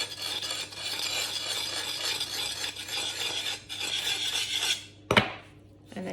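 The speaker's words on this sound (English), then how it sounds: "you can just go straight back to it with your sharpening stone" Sharpening stone rasped along a bill hook blade during forest-school tool maintenance, a steady close scraping that runs continuously for about five seconds, then breaks off with one short sharp stroke before quiet.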